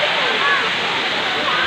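Waterfall at Daranak Falls in Tanay, Rizal, a steady broadband roar of falling water, close and constant throughout with no break, and no talk heard over the rush.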